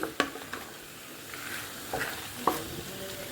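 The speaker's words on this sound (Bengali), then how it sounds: "এইবারে খুব ভালো করে এটা কষাতে হবে গ্যাসটা কিন্তু একদম লোতে আছে কেননা দই দিয়েছি" Masala with curd stirred in a pan over a low flame, a soft steady sizzle broken by a few scraping spatula knocks, quiet and close.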